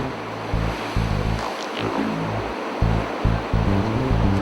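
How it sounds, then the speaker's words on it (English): Sea swell rolls in and breaks against rocks on a rocky fishing shore, a loud, continuous surging roar with repeated heavy crashes and some wind buffeting the microphone. "Watch and wait to get a full idea of the swell wave cycle."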